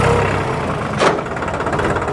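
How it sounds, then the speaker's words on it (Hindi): A New Holland 3600 47 hp tractor engine runs close by during gear shifting, a steady mid-pitched idle hum with a brief sharper clunk partway through. "गियर शिफ्टिंग में हल्की सी आवाज़ मुझे महसूस हो रही है"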